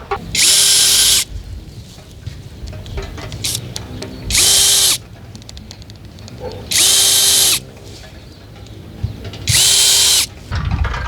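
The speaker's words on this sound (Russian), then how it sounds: "Тоненьким сверлышком насверлил дырочек." Four bursts of a small power drill with a thin bit whirring at high speed, drilling small holes in a garden hose, each lasting about a second, separated by quieter handling and clicking noises.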